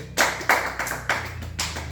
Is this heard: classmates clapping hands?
yes